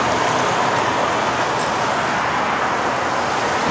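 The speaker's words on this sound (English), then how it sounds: "Sorry about the traffic." Road traffic rushes past nearby as a continuous, loud, broadband roar with no breaks, steady throughout.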